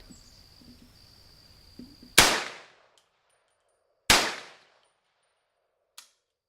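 Two loud, sharp .30 carbine gunshots ring out about two seconds apart, each with a short ringing decay, fired at old Kevlar body armor, followed by a faint metallic tick near the end.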